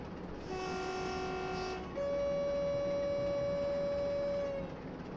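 A train on the Great Western Main Line sounds its horn in two sustained blasts, a short one and then a longer, loud, steady one over constant rumbling rail noise.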